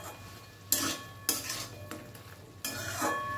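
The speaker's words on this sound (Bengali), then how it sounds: "বড়াগুলো দিয়ে খুব ভালোভাবে মিশিয়ে নেব" A spoon scrapes and stirs fried fritters into a pot of banana flower curry cooked with Gobindobhog rice, making several distinct scraping strokes over a faint sizzle, close by with no talking.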